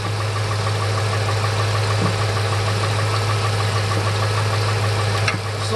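A 1998 Ford Expedition with a 5.4 or 4.6 V8, just fitted with a new IAC valve, runs at a steady, loud idle with a low hum and no clear rev, close up with no talk.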